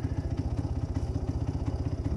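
Classic 1950s Puch 250 TF motorcycle with a fairly new engine being run in, a steady rapid thumping two-stroke-style beat, close and even, with light mechanical clatter and no talk.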